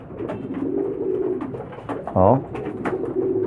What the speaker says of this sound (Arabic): دي حمامة البيضة اللي حضراتكم شايفينها دي